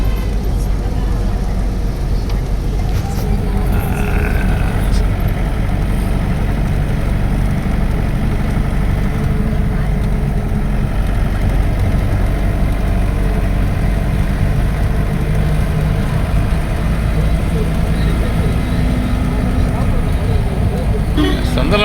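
A car engine runs steadily on a forest road through sandalwood and teak woods near Munnar, a constant low droning hum throughout at close range, with people talking over it.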